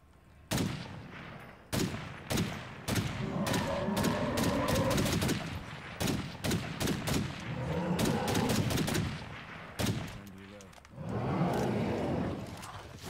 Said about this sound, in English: firing that unsuppressed gun, which I think actually has a break on it too